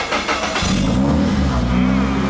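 A 3SGE-powered AE86 Corolla drift car with a BEAMS engine revs loudly up close, the raspy engine note climbing and then holding steady with a harsh, crisp exhaust tone.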